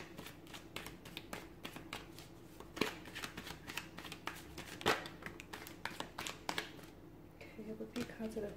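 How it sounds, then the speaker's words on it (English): Tarot cards are shuffled close up, with quick papery riffles and soft taps repeating in bursts and a few sharper snaps. "give the cards a shuffle, and let's begin."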